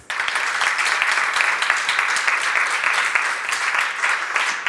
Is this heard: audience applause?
yes